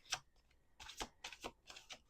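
Crisp riffling bursts of tarot cards being shuffled, several quick flicks in a row, close and fairly quiet with no talking.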